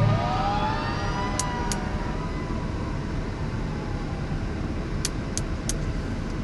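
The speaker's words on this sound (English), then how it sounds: "hey there, fire truck." A passing fire truck wails with a siren that sweeps downward and fades into the distance, heard over steady street traffic noise with a few sharp high chirps.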